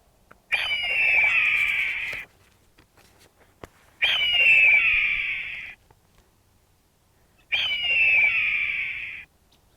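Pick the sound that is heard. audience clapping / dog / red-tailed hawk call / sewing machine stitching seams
red-tailed hawk call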